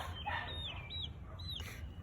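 Young chickens cluck and chirp in a short run of calls at dusk, the adult hens already roosted, with several close squeaky notes over a low steady background hum.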